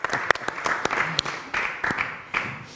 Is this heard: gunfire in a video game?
no